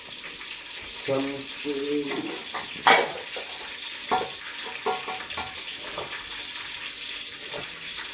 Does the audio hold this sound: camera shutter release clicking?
no